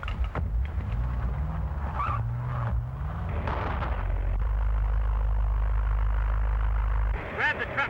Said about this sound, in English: Grab the truck before she goes off the road.